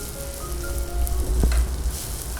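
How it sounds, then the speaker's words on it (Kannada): Grated coconut and spices frying and being stirred in a pan for a mung bean palya, a soft continuous sizzle with light scraping strokes and a brief clink near the middle, no voices. "ಇದನ್ನು ಸರಿಯಾಗಿ ಕಲಿಸಿಕೊಳ್ಳಿ."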